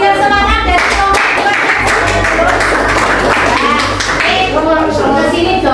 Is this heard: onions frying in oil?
no